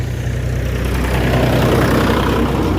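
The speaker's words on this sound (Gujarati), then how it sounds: "આ પણ ટ્રેક્ટર છે" A tractor engine idles steadily outside a home, a loud, continuous low rumble with no pauses or voices.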